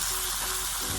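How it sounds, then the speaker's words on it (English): Zucchini sautéing in a pan gives a brief, loud, continuous sizzle and crackle heard up close, with no speech. "our last batch of zucchini is finishing up sauteing"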